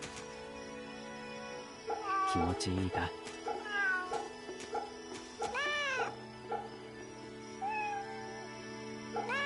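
Cat meows from Fate/Samurai Remnant: several rising and falling mews in a row, clear and fairly close, with Japanese speech in between and under them.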